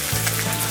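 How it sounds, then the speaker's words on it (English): Ground beef, pork ribs and meat bones frying in a pan, a brief close burst of steady sizzling and crackle. "So we got 2 pounds of ground beef, 1 rack rib pork, and some meat bones, which we're frying over here too."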